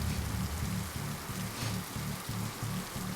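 A rain sound effect plays during a Curse of Strahd tabletop role-playing session, a soft, steady patter of drops on a surface with a faint rhythmic pulsing underneath, alone and fairly quiet.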